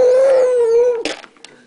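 A baby makes a sustained, steady growling drone while eating, loud and close, then breaks off into short mouth noises and small breaths.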